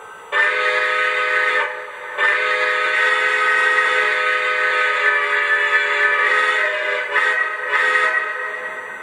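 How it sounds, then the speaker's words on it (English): A Lionel Legacy Milwaukee Road S3 Northern #261 model steam locomotive blows its alternate whistle, a loud, breathy chime chord held long with a brief break and a few short pulses near the end. "And here's the other whistle."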